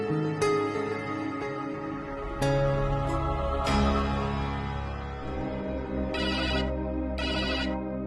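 A mobile phone ringtone plays a steady melodic electronic tune with repeated tones and bright chiming bursts, loud and close, sounding alone for several seconds.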